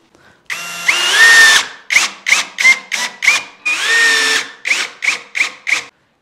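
A cordless electric drill drives stainless steel screws through wall tiles into a household telescopic ladder, two long whirring bursts followed by a run of short, evenly spaced pulses, loud and close with no talking.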